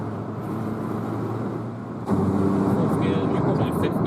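A car engine drones steadily in high gear at speed, a continuous low rumble with road and tyre noise that grows louder and fuller about halfway through, running alone without talk.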